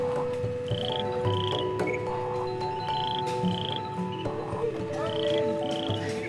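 Frogs in Indonesia croaking, several loud, close, repeated calls overlapping in an irregular chorus over a low background hum.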